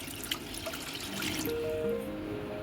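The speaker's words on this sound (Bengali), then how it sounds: "এই কড়ার মধ্যে আমি একটু জল দিয়ে নিলাম।" Water is poured briefly into a cooking pan, a soft liquid trickle and splash that settles into a steady fizzing hiss, heard alone at close range.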